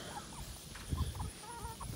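Chickens kept together with pigs on a homestead, soft irregular clucking and small calls from several birds at close range, fairly quiet over low background noise.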